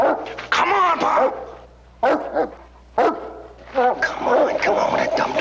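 A dog barks and yips in several close bursts while someone talks over and between the barks.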